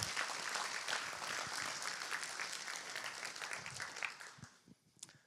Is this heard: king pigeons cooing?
no